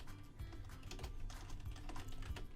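Keys clatter on a computer keyboard in steady, close typing bursts, each stroke sharp and distinct, running continuously while code is entered on a Java program; no one speaks.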